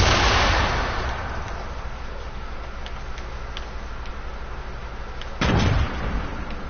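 Grenade explosions in a video game: a loud deep blast opens, then a low rumbling spell with faint ticking clicks, and a second burst lands sharply near the end.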